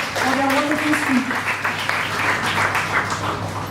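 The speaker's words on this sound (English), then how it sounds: "let's give our panelists a round of applause." Steady applause for panelists at an annual general meeting panel discussion fills the room, with a voice speaking briefly over the claps near the start.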